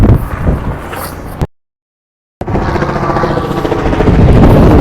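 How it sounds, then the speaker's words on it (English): A loud tour helicopter drones overhead with a thumping, rushing roar that briefly cuts out, then continues close and steady. "We got helicopter tours flying over."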